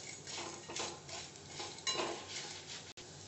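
Crushed Maggi noodles roast in hot oil on a low flame. A spatula scrapes and shuffles them around the pan in quiet, repeated strokes, with light metallic clinks and only a faint sizzle.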